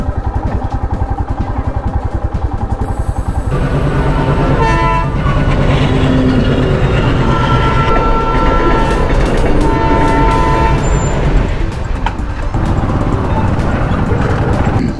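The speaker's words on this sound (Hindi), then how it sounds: "अभी आएगी ट्रेन।" A train rumbles past at close range at a railway crossing near Kamshet, Pune, its wheels clattering loudly and steadily, with a horn blast partway through.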